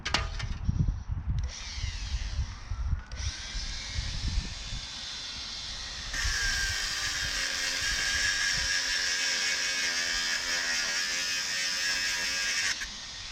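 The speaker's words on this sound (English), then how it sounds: "Grind the screw off now." A few rough scraping knocks, then a high-pitched power grinder whines steadily and loudly for several seconds, cutting off a metal screw before stopping.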